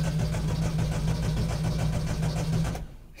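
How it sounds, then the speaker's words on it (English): A classic Morris Traveller engine cranks and turns over, a steady rhythmic churning with a low hum that runs loud and close, then cuts off abruptly near the end. "One minor detail, the car has to start."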